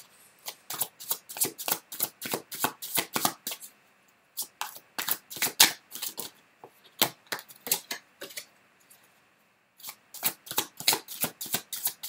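Cards from a deck are handled and drawn in quick bursts of crisp snapping and riffling, close and clear, with short pauses between flurries.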